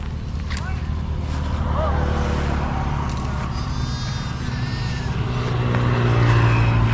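A flock of sheep at Kaithady in Jaffna, late afternoon, gives faint, scattered bleats over a steady low engine rumble in the background.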